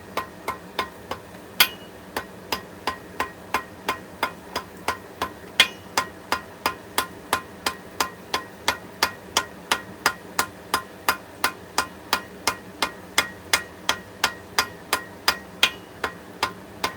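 Hammer blows forge hot metal in a steady, evenly spaced series of sharp, ringing strikes, several dozen in all, close and alone with no talk.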